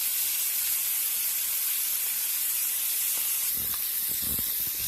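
Shrimp cooking in a pan over a gas flame give a loud, steady broadband sizzle throughout, with a few soft knocks near the end and no speech.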